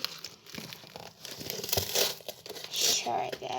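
A knife slicing open a delivery parcel holding a highlighter order, with crinkling plastic and tearing packaging heard close up in bursts while a person speaks over it.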